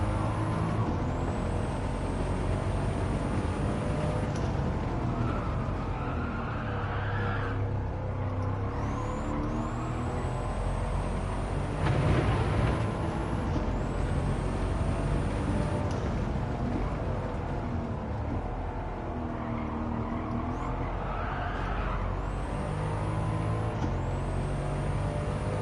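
An Aston Martin races around Watkins Glen in Gran Turismo 7, its engine droning steadily throughout. Rising tire squeals cut in repeatedly over the drone, and there is a brief thump near the middle.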